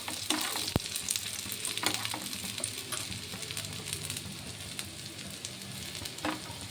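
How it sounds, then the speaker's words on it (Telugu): Pesarattu fries in ghee on a hot pan with a steady, close sizzle and crackle, plus a few brief scraping clicks from stirring or spreading. "కొంచెం నెయ్యి వేసుకున్నాను."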